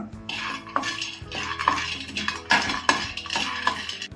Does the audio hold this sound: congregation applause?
no